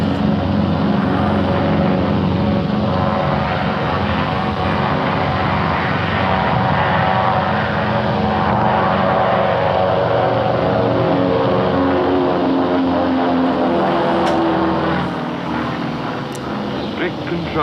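Douglas DC-3 propeller aircraft taxiing for takeoff, a loud continuous engine drone and propeller roar held steadily throughout.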